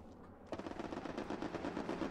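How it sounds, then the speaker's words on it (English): Rapid machine-gun fire from a strafing run in the Band of Brothers video game, a sudden fast rattling burst of evenly spaced shots, loud and sustained until the clip ends. "I have a strafing run coming in."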